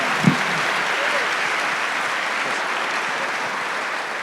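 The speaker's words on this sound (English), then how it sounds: "Can everybody give a big round of applause for our panelists?" An audience at an AI summit and career fair applauds panelists with steady, even clapping that holds throughout, without any speech over it.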